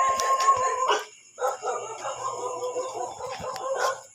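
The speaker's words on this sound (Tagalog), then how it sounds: "Eh, mga aso." Several dogs bark from nearby on a village route home in the Philippines, short yapping bursts overlapping in an uneven rhythm with a rooster-like call mixed in and no talk over them.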